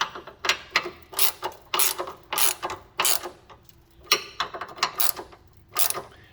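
A ratchet wrench tightens bump stop extension bolts on a 1999–2004 Jeep Grand Cherokee WJ, a rapid clicking burst repeated about ten times in quick strokes, close and crisp, with no talking.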